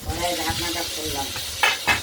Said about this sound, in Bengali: প্রতিটা পটলকে খুব সুন্দরভাবে হালকা করে ভেজে নেব।